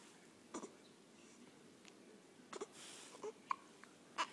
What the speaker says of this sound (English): But it's hard to eat when I have the hiccups.